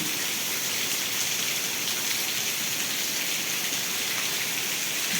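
Heavy monsoon rain pouring down in the village of Vejalka, Ranpur taluka, Botad district, Gujarat, a dense, loud, unbroken roar of water with no voices.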